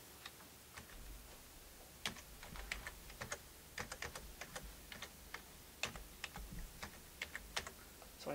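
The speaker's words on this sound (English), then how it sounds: "So I enter my card number." A card number being typed on a computer keyboard at a library checkout, with irregular, faint, close key clicks tapping out in quick bursts with brief pauses, no voices.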